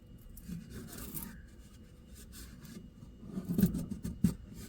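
Vinyl being rubbed down onto a painted centerpiece during a kids' room makeover, a soft close scraping and rasping that grows louder and more forceful toward the end, with no talking.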